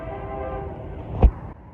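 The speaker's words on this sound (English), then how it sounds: "this locomotive was assigned to CSX Y222, which is the beer plant switcher" A CSX locomotive working as the Y222 beer plant switcher in snowy central Ohio rumbles steadily past at close range, its low engine drone and layered tones broken by a short, loud horn-like burst near the end.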